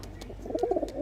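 A breeding pair of pigeons coos, a short soft throaty burble of a few rolling notes close by, over low background noise.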